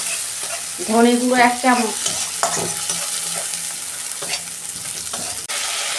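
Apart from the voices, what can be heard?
cumin and coriander spice paste frying in a pan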